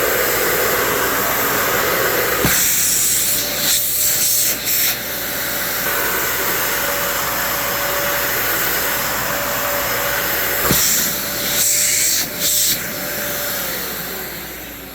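A Dyson vacuum cleaner running in auto mode gives a loud, steady whooshing roar for the whole stretch, with a few brief dips and bumps in the airflow noise.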